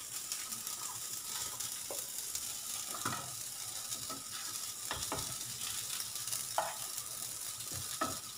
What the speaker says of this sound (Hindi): जब तक देखिए ये हमारा फ्राई हो रहा है